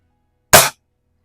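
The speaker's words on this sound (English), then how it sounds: "This one, like I said, is a 22 caliber version. Shooting some JTSs here." A single short, sharp shot from a .22 caliber spring airgun firing a JTS pellet, loud and close, with silence before and after.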